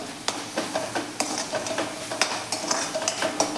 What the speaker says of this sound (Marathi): आता हे व्यवस्थित मिक्स करून घेऊयात आपण